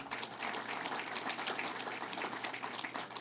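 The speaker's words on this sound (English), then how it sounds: "So let's give him a round of applause" A crowd at a political campaign event applauds steadily for an Assembly member, a dense, continuous clapping heard for several seconds.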